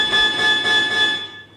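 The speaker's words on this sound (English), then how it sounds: "There's the opening bell and away we go" Boxing match opening bell, a bright sustained metallic ring over crowd noise, loud at first and then decaying away.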